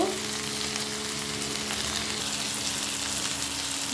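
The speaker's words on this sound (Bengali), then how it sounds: "ফুলকপিগুলো দিয়ে দিলাম ভালো করে একটু ভেজে নিব" Boiled fish, cauliflower florets and sliced tomatoes fry in a pan, giving a dense, continuous close-up sizzle with a faint low hum beneath.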